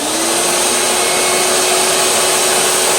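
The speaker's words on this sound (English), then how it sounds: "And then I'm going to turn on the shop vac." A shop vac runs in a community makerspace ahead of CNC router cutting, giving a steady, loud, close roar with a constant high whine and no breaks.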